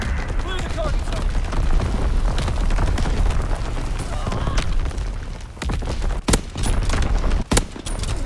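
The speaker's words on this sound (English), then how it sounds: "Enemy mortar fire incoming!" Dense, continuous battlefield barrage from Call of Duty: WWII with incoming mortar fire, rolling booms and sharp blasts over constant gunfire, a few loud isolated impacts near the end, and game voices shouting over the din.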